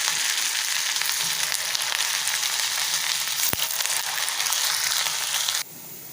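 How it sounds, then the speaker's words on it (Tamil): Potato garlic rings deep frying in hot oil over a medium flame, a dense, loud, steady sizzle and crackle close by, with one sharp tap midway before the sizzle drops slightly near the end. "நம்ம வந்து ஆயிலில் ஃப்ரை பண்ணிக்கலாம், டீப் ஃப்ரை பண்ணிக்கலாம்"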